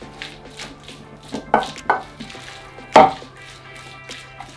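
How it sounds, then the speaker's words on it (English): Roasted peppers and onions are stirred in a pan with a few scraping, clattering knocks of a utensil against the metal, spaced out over a quiet kitchen background. "and then we just want to stir those through."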